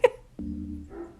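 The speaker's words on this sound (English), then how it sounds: "I hope this mic can pick up this dog next door." A dog next door gives one sharp bark, followed by a drawn-out whining tone and a fainter trailing whimper, heard at a moderate distance in a quiet room.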